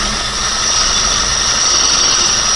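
A Chevrolet engine idles steadily with a rough, broadband rattle like a loose metal timing chain, loud and continuous throughout with no talking.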